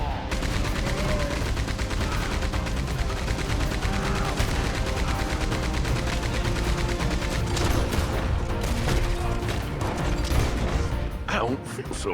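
Rapid gunfire crackles through a Red Dead Online shootout at a fort, with dense overlapping shots and bursts that keep going without pause under voices from the game.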